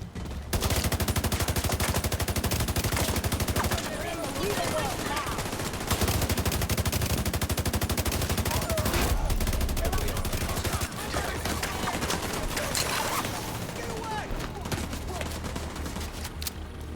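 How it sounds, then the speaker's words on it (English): Rapid shotgun and automatic gunfire from The Division 2 video game, a dense near-continuous barrage of loud bursts lasting throughout, with game effects and faint voice mixed beneath. "Is that those shotguns again?"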